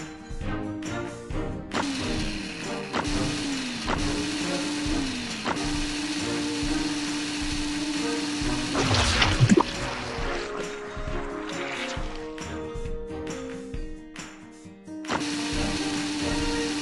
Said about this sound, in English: The Super Blender makes this step even easier with the press of a button